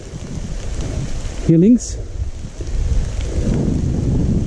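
Heavy rain pours down outside an old mine entrance near Bratislava, a dense steady hiss filling the whole clip, with a voice briefly speaking over it near the middle.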